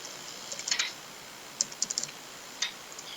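Keys on a computer keyboard are tapped in short, quiet bursts of clicks with gaps between them, close by and alone.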